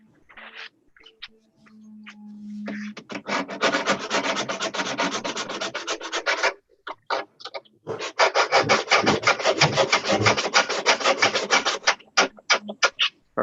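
Sandpaper or rasp rounding the corner edge of a wooden trunk on a boat-building livestream, rhythmic rapid back-and-forth scraping strokes in two long bursts, close and loud with brief pauses between.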